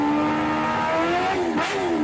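A supercharged Kawasaki H2R motorcycle engine revs hard and continuously, its loud, close whine rising in pitch, dipping briefly and then climbing again.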